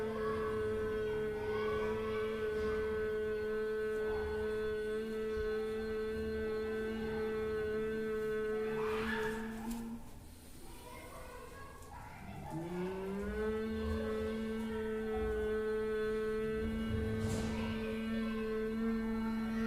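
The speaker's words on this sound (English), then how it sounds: "we exhale through our nose, and at the same time creating humming sound" A person hums steadily while exhaling through the nose during pranayama breathing practice. Two long, level, resonant hums are separated by a short pause for breath, and both are loud and close.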